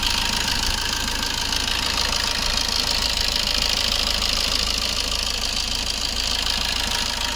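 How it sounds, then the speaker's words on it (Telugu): A 2015 Maruti Ertiga ZDI diesel engine idles steadily and close up, a constant even rumble with a faint knocking clatter that holds unchanged throughout, with no talking. "ఇంజన్ కూడా చాలా నీట్గా ఉంది. సౌండ్ చూడండి."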